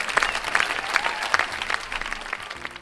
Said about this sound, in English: Just clap it up for the family.